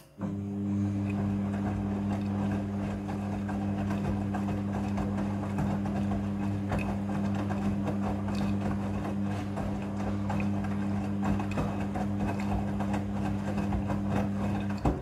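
A Midea front-loading washing machine rinses with water, giving a continuous low mechanical hum with steady tonal drone, water sloshing and churning over it, close and even throughout.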